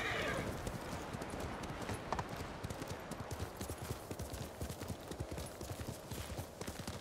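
Horse hooves clip-clop in a steady trotting rhythm in the Ghost of Tsushima video game, with a brief whinny early on; hoofbeats stay prominent and close.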